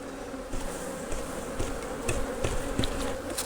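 Dense, steady buzzing of many bees close by as a beekeeper shakes them down into a hive box, with a few louder passes as individual insects fly near.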